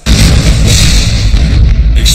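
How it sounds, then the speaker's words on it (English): Explosions rocking a city at the start of the Tet Offensive during the Vietnam War, a loud sustained barrage of booming blasts and rumbling with no pause. "Explosions rock the city."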